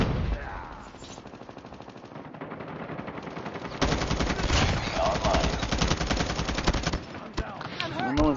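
Sustained automatic gunfire in a Call of Duty multiplayer match, continuous rapid bursts growing louder midway, with game voices and effects mixed in.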